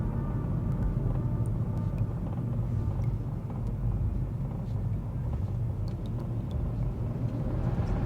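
A Seat Ibiza Cupra driving across town, its engine a steady low rumble with road and cabin noise throughout, close and constant, with no talking.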